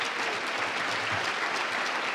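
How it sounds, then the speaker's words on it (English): A conference audience at a health event gives a steady round of applause, even dense clapping at a fairly quiet level with no voices over it. "Let's give a round of applause for the presenting level."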